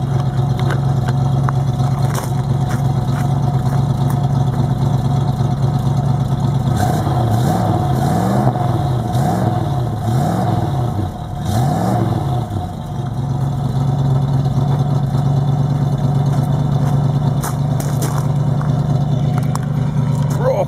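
A 1966 Ford Mustang's 351 V8 idles steadily and close by, with a deep continuous rumble and a few revs blipping through the middle before settling back to idle.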